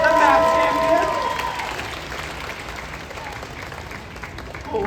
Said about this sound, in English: How about another round of applause for Jade